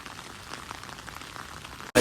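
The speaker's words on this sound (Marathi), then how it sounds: "पाऊस बघ कसला आले" Rain falling steadily outdoors, a dense even hiss with scattered drops at moderate level throughout, cut off briefly near the end by a louder burst of noise.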